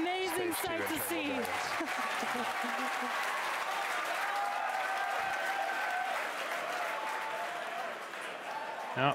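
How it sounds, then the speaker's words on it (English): A crowd cheers and applauds loudly and continuously after both Falcon Heavy side boosters touch down at Landing Zones 1 and 2 during a 2019 launch, with excited voices mixed into the sustained roar. "You can hear our crowd going crazy right now."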